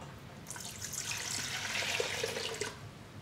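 Warm water is poured into a bowl while making homemade French bread dough, a soft steady trickle lasting a couple of seconds, faint and close, with no voices.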